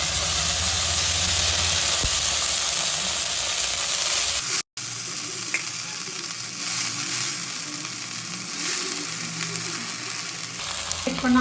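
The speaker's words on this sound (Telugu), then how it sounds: "అదే మూగుల్లో మనం కొద్దిగా 2 స్పూన్లు ఆయిల్ వేసుకుని కొత్తిమీర మగ్గబెట్టుకోవాలండి" Coriander leaves sizzling in about two spoons of oil in a pan for a coriander tomato chutney: a continuous close hiss and crackle that stops for a brief moment midway, then carries on steadily without talk.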